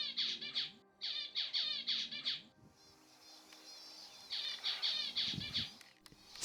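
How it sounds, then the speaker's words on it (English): Zebra finches calling at a water spot on dry savannah plains in Queensland: quick bursts of repeated nasal, buzzy chirps, fairly close and lively, with a short pause and then another chattering run. "zebra finch, the most widespread of Australian finches."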